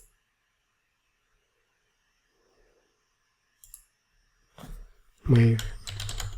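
Keys tapped on a computer keyboard give a few short, soft clicks in a quiet room before a voice starts speaking.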